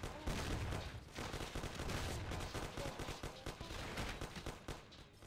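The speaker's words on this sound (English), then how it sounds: "Take cover! What's going on? Jesus, who are they? Fire! Kill the bastards!" Rapid bursts of gunfire and machine-gun fire in a firefight in the video game Mafia: The City of Lost Heaven, loud and dense with sharp repeated shots throughout.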